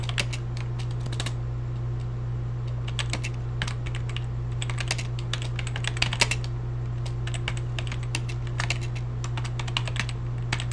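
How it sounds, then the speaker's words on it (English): Typing on a computer keyboard: steady clusters of quick light key clicks in irregular bursts, close and clear over a constant low electrical hum, with no talk. "we're just going to go ahead and type in"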